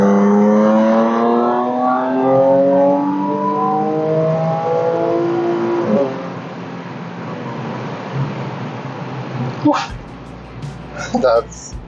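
An Audi S4 fitted with downpipes accelerates hard, its engine and exhaust rising in pitch through the gears with a loud, rasping drone, then easing off; a voice cuts in briefly near the end.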